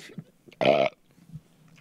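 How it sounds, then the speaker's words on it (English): A single loud burp rings out in the middle, brief and close, surrounded by quiet pauses. "I needed to burp because I just remembered how good this joke is."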